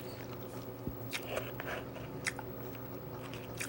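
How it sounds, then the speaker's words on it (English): Someone eating dinner at night close to the microphone, with soft, irregular chewing and a few sharper bites and crunches over a quiet room background, no talking. "I'm chewing"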